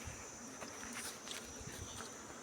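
Wild honey bees buzz in a Sri Lankan forest during a honey harvest, a faint, continuous drone with a few louder passes near the listener and no talking.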